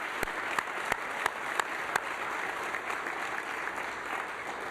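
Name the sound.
audience applause at an award ceremony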